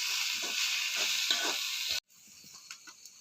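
Masala sautéing in a pan with salt and pepper powder, a steady close sizzle with soft stirring scrapes, cutting out abruptly and then returning as quieter intermittent crackle.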